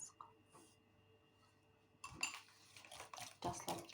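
Sugar gets stirred into a dough mixture in a bowl: after a quiet start, a spoon scrapes and clinks against the bowl in irregular, close-up bursts.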